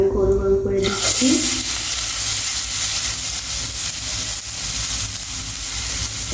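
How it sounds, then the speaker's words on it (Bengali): Telakucha leaf fritters fry in hot oil in a pan, giving a loud, steady, close-up sizzle that holds evenly throughout after a brief quieter start. "তো এইভাবে আমি গরম তেলে সবগুলো একসঙ্গে ভেজে নিচ্ছি।"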